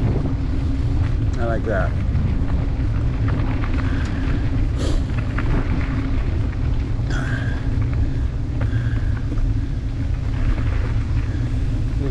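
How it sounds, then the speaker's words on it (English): Steady heavy wind roar buffets the microphone while cycling outdoors on the University of Alaska Fairbanks campus, constant and loud, with brief talk over it. "It's a little windy and dark today."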